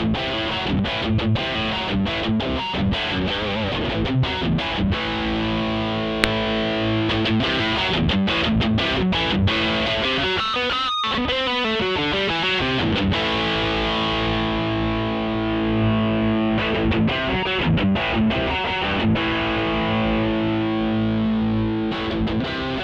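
An electric guitar plays through an RPM Pedals Strips Last Lie 7-in-1 distortion with cab sim in vintage mode, giving thick, sustained distorted chords. A brief scraping break comes midway before the chords resume loud and steady.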